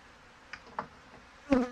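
Honey bees buzz around an opened hive with frames of nectar and bee bread pulled out, giving a few short, close buzzing passes over a quiet background.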